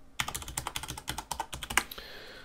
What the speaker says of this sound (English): I'm going to type in a passphrase here